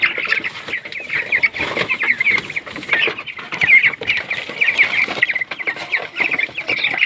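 Hungry farm chickens clucking and squawking busily at close range while being fed, a dense continuous chorus of overlapping calls with occasional wing flaps.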